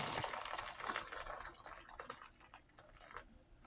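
Hot boiling water pours and splashes over a carrot-shaped caramel candy, a steady close gush that thins toward a trickle and faint drips at the end.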